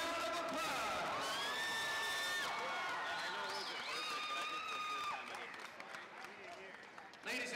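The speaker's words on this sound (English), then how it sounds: "Give these two fighters a big round of applause." Crowd at an MMA event applauding two fighters, with cheers, whistles and whoops rising over loud clapping, then easing off before a brief renewed burst at the end.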